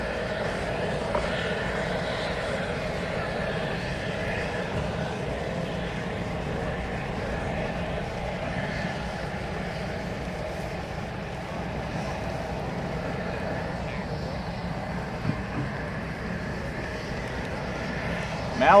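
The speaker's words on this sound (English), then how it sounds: "the F-A-A Super Hornet. A lot of noise and a lot of speed from the United States Navy." A US Navy F/A-18 Super Hornet jet passes at an air show, a broad distant roar that holds steady across the whole stretch, with crowd chatter faintly underneath.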